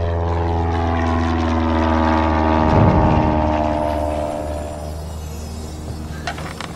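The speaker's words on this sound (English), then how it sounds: "Unidentified aircraft approaching Isla Sorna." An unidentified aircraft flies over an island, a loud, steady droning engine hum that swells in the middle and then eases off as it passes.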